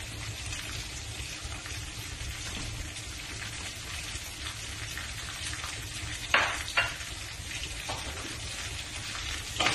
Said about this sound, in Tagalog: halu-haluin lang natin guys hanggang sa medyo matos ang ating luncheon, ang ating sausage at ang ating karne